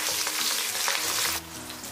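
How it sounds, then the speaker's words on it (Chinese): Fish fries in a pan over medium-low heat, giving a dense, continuous sizzle that drops a little in intensity near the end, close and without talk. "然后再把鱼给它下入锅中"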